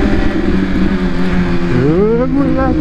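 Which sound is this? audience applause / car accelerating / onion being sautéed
car accelerating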